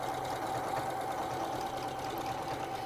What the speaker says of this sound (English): It's actually stitching around in a circle.